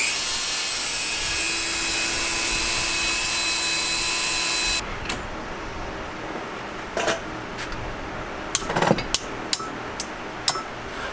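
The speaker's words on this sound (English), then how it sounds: "And the winner, as it usually is a Dremel tool." A Dremel rotary tool cuts through air intake material on a Garelli VIP moped during a Polini kit install, a loud, steady high whine for several seconds that then stops, followed by scattered scrapes and clicks.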